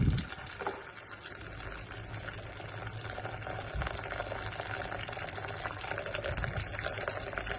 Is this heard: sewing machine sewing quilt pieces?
no